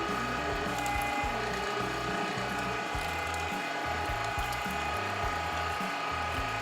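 A 1.5 horsepower electric meat grinder runs steadily while grinding sausage meat to a coarse grind, with a continuous mechanical whir and a rhythmic clatter at close range.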